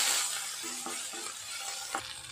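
Crushed ginger, green chilli and curry leaves sautéing in a pan for idli masala, a dense continuous sizzle close up, with a few soft stirring knocks and scrapes.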